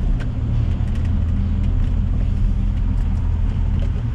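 An LS-swapped car driving with its engine running, heard from inside as a loud, steady low rumble and road drone that continues the whole time, with no talking.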